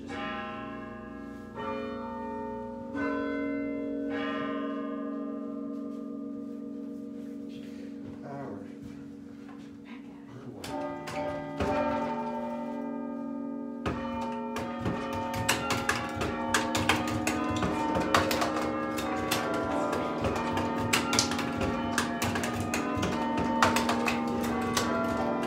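A clock chimes in a quiet room, a series of ringing bell tones that ring out and overlap, sounding close and moderately soft, with faint voices briefly in the background.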